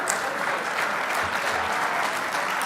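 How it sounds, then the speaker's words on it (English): Steady round of applause from a crowd at an awards banquet for junior champions of a 1/10 scale RC car world championship, dense even clapping throughout with no talk over it. "big round of applause for your junior champs"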